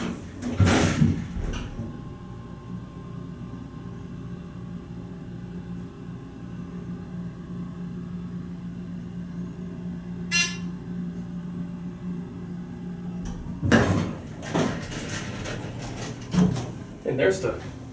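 A Dover Impulse hydraulic elevator at GCC in Batavia, NY, rises slowly at leveling speed with a steady low motor hum and whine, framed by clunking door or car movement at the start and near the end.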